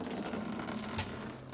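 Water running and splashing steadily as it drains out of a Yard Machines rototiller engine into a container, close by with no talking.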